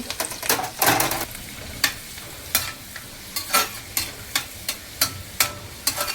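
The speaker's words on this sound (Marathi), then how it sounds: "आता याच्यात टाकलेला आहे लसूण. लसूण थोडा तांबूस रंगाचा होऊ दे." Garlic frying in hot oil with whole spices, a soft sizzle under repeated sharp scrapes of a spoon against the pan in a steady rhythm, close and clear without voices.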